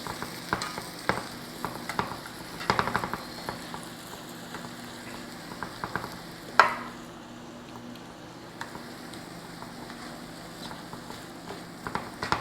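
Onions and mushrooms sizzling in butter in a pan, a low continuous crackle with scattered spatula taps and stirring clicks, one sharper knock midway, close and fairly quiet, with no talking.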